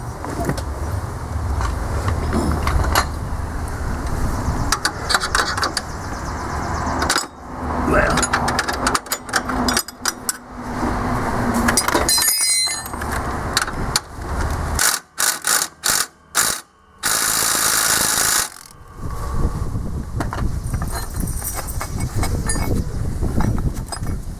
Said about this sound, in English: Tighten it so tight you can't even get your wrench out.